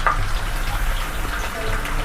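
Spiced fish pieces fry in hot oil in a kadai, giving a loud, continuous sizzling rush close by, with a voice talking faintly underneath.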